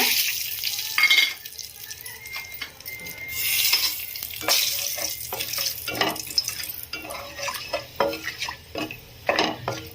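Whole bay leaf, cinnamon stick, cardamom and cloves fry in hot oil for an egg and dry fish curry, a steady sizzle broken by repeated scraping and clinking of a spoon stirring against the pan, loud and close with no talking.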